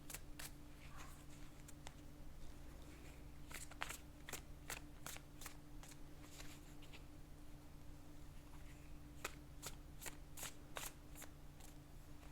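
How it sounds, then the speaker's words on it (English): A tarot card deck is shuffled in short bursts of crisp riffling and sharp card snaps, spaced irregularly over a low, steady room hum, quiet and close. "I've already pre-shuffled my deck, so I'm just going to shuffle a little bit more"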